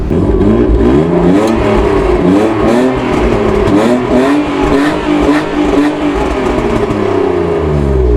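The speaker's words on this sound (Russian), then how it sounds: "Сейчас вам покажу, как теперь шумит эта гонка" The loud, raspy engine of a modified street drift car revs up and down repeatedly close by, its pitch climbing and falling in waves with a harsh exhaust note.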